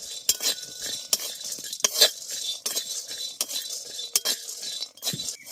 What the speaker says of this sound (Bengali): এবার এই বাদাম আর ছোলার ডালটাকে আগে শুকনো কড়াই কিছুক্ষণ ভেজে নেব